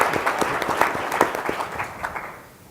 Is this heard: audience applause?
yes